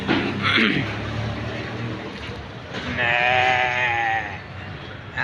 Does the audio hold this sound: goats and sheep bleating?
yes